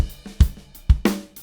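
A dry, unprocessed recorded drum kit playing a short beat, with punchy kick hits and a snare crack in quick succession, close and clear with no room echo.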